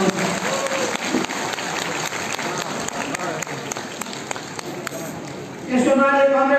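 Steady crowd applause at a large party workers' gathering in Pokhara, continuous clapping from many hands that swells louder near the end as a voice begins speaking over it.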